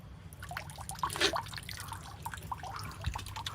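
Mountain spring water in Japan trickles and drips from a source, a close, steady patter with a few brighter splashes.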